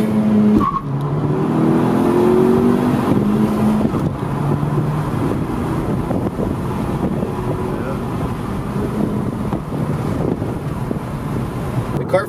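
Honda Civic with a freshly flashed tune pulling hard in first gear toward 4,000 rpm, a loud close engine drone rising in pitch over the first few seconds, then a steady roar mixed with wind buffeting.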